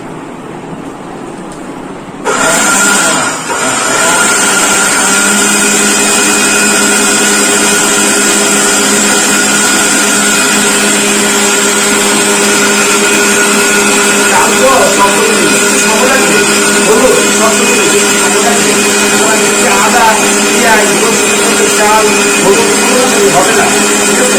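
A Ricco blender grinds spices into powder. The motor cuts in abruptly and runs as a loud, steady, high whine, with a voice faintly underneath.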